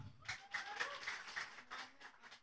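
Audience at an Indonesian political talk event answering a prompt with a short burst of scattered hand clapping, fairly close and lively, fading within a couple of seconds.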